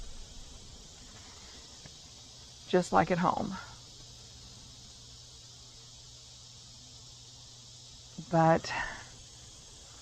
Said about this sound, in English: the cicadas are going nuts still here